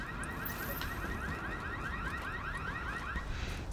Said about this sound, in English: And also set off 3 car alarms simultaneously.